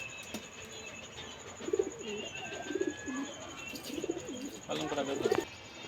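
Large, long-bodied Kaldom pigeons coo in a run of repeated low, rolling calls from close by, over steady background hiss and a faint voice.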